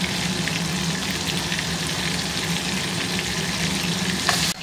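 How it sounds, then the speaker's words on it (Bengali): Fish fry crisp in a pan of oil for a chochhori, producing a loud, even, unbroken sizzle throughout. "মাছগুলো বেশ কড়া করেই ভাজছি"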